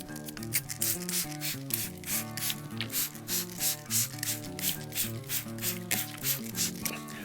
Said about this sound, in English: give it a quick spritz with water just to help retain some of that moisture